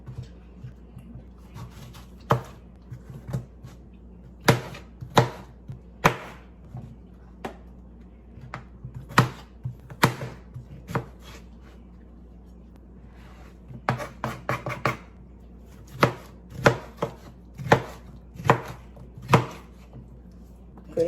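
Cucumbers being sliced with a knife for a salad, producing irregular crisp knocks on a board that come in clustered bursts, close up, with quiet pauses between runs.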